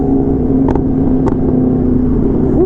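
A Polaris Slingshot's engine drones steadily and loudly at night on the way to a Michigan street race, with a few brief higher blips and a slight rise in pitch near the end, no voices.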